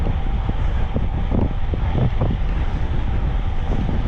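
Strong halny mountain wind buffets the microphone in autumn, a loud, continuous roaring rumble with gusty thumps throughout and no voices.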